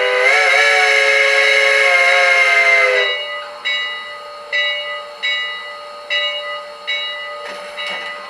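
Model steam locomotive fitted with a TCS WOW heavy steam sound decoder gives a loud, multi-tone whistle for about three seconds, then a series of evenly spaced, fading chuffs.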